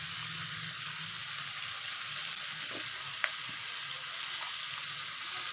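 Potatoes fry with spices in a pan, giving a constant close sizzle and hiss with a few faint scraping stir sounds and a brief clink, no voices.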